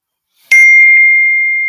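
A phone's text-message notification gives one loud, close ding: a bright chime that strikes sharply and then rings on, slowly fading, with no voices over it.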